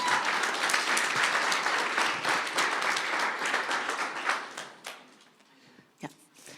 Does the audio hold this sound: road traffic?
no